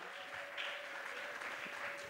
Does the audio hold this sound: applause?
yes